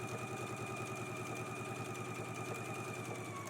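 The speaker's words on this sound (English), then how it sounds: "Let's go ahead and stitch at a 5/8 of an inch seam allowance." A sewing machine runs steadily, stitching a pocket flap seam at a 5/8-inch allowance, its motor giving a continuous, even mechanical hum and rapid rhythmic needle chatter, quiet and close with no talking.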